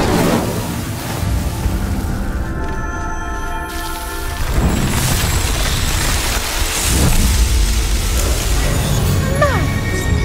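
Incendio fire spell cast in Hogwarts Legacy as pyres are lit, giving a rumbling, booming burst of flame over a steady background wash, with a second swell of fiery roar a few seconds later.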